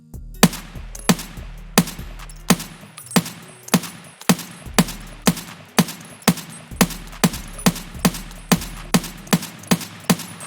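G28 rifle firing in the video game Escape From Tarkov: a steady series of loud, sharp single shots, roughly one every half second, about eighteen in ten seconds, with no talking.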